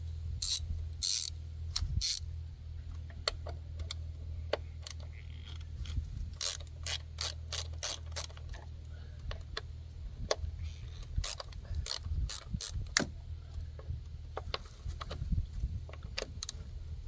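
Ratchet wrench with a socket clicking in repeated bursts while removing spark plugs from a Kia Forte engine, sharp close ticks over a low steady background hum, no talking.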